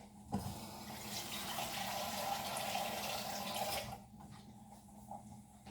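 Tap water runs steadily into the base pot of a stovetop double boiler for melting chocolate, a close, hissing pour lasting about four seconds before cutting off to quiet.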